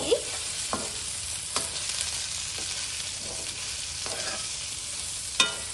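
Okra pieces deep-frying in a pan of hot oil, a steady low sizzle running throughout while a utensil scrapes and stirs them in occasional distinct strokes, close and fairly quiet with no voices.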